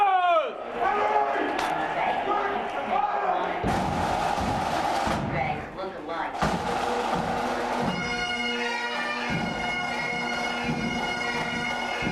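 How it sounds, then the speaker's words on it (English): Crowds cheer at an airport welcome reception for Honor Flight veterans, loud swelling bursts of cheering and applause mixed with sustained musical tones and voices. "The cheering crowds at both airports"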